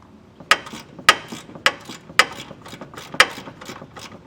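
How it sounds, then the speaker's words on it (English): A 10mm ratchet works on bolts under a 2024 Ford Maverick frame, five sharp clicking bursts arriving at an even, roughly half-second rhythm, close and clear over a quiet background. "I'm going to get out with a 10mm ratchet"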